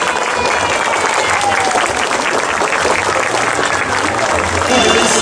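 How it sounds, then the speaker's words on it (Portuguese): A crowd lining a 7 de Setembro parade route in Rolândia applauds strongly and continuously, the clapping loud and sustained alongside general crowd noise. "Vamos aplaudir mais forte, gente!"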